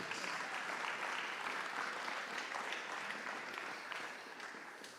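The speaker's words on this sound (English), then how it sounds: "Round of applause for Chris, please." Steady audience applause fills the room as a volunteer named Chris is called up on stage during a talk, sustained and fairly close, tapering slightly toward the end.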